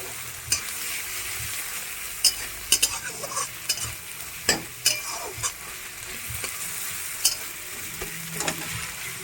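Garlic fries in a pan for a Kolkata street-food dish while a spatula stirs it, giving a continuous sizzle broken by repeated sharp scrapes and clinks against the metal, with no talking.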